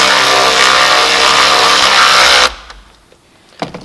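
A cordless power tool whirs loudly and steadily for about two and a half seconds while tightening down the air filter box on a 2018 Mercedes-Benz C300, then stops, leaving a few faint clicks and handling noises.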